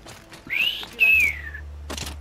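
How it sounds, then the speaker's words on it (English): Two clear rising-then-falling bird whistles, one after another, bright and close, with a low electronic hum beneath, from the video game Horizon Zero Dawn on PS4 Pro. "Did you hear that bird whistle at us?"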